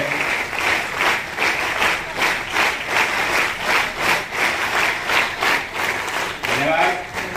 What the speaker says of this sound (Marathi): पुन्हा एकदा जोरदार टाळ्या झाल्या पाहिजे आशिषसाठी